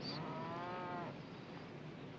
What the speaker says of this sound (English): It's cowboys driving a cattle herd north to Abilene.